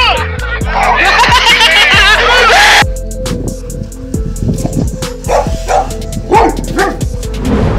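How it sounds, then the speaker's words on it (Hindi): A black dog yelps and cries repeatedly while a tamandua grips its neck and sinks teeth and claws into its skin, with sharp, close, rapid yips and squeals in irregular bursts over scuffling. "कुत्ते की चीखें तो जरा सुने"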